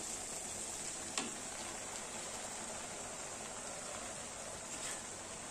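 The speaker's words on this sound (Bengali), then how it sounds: "ব্রেডগুলোকে দিয়ে নেড়ে চেড়ে নেব।" Bread pieces stirred in oil in a pan for bread upma, a low steady sizzle with a faint scrape or two from the spoon, fairly quiet throughout.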